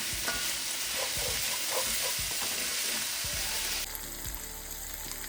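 Onions fry and sizzle in a pan for masala arbi, a continuous loud hiss with occasional stirring scrapes, close up and steady throughout.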